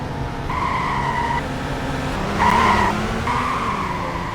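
A vehicle in the Greenville driving game skids in several short tire-squeal bursts over a constant engine drone.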